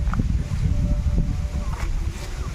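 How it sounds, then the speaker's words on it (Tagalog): Strong wind blows outdoors under coconut trees, a loud low rumbling buffet against the microphone that continues throughout, with faint rustling and a few brief higher sounds above it. "Mahangin dito"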